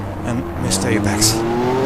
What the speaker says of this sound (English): big wheel spin